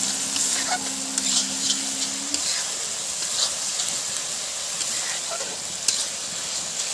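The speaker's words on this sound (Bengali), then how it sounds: "এবারে দিয়ে দেবো রসুন বাটা। আবারও নেড়ে নেব।" Garlic paste being stirred as it fries in oil with onions and chillies for a fish curry, a steady hissing sizzle with occasional scraping strokes, close and even throughout, no speech.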